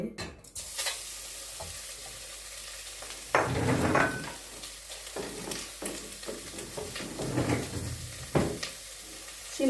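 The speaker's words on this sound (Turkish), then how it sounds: "Şimdi önce etimizi koyuyoruz tavaş tenceremizin içine kızdı tenceremizi ısındı." Meat sizzles steadily in a hot pot for a Brussels sprouts and meat dish, with scraping stirs and clanks of a utensil breaking through the frying hiss.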